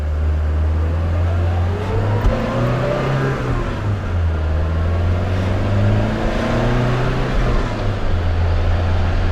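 A 1972 BMW 2002tii's engine pulls hard while driving, its loud note rising and falling through repeated accelerations and gear changes, close and steady for about nine seconds without talk.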